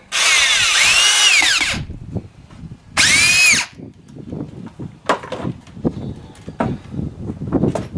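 Power drill driving a 3.5-inch deck screw into the end of a piece of wood: two loud whirring bursts, the second shorter, followed by quieter knocks and handling sounds nearby.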